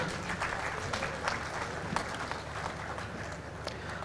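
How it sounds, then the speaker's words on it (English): Audience applause at a conference session on startups and small enterprises, a continuous moderate round of clapping from a hall full of people, even in intensity with a few sharper claps. "Can we have a big round of applause, ladies and gentlemen?"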